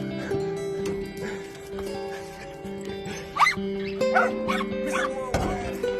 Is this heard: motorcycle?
no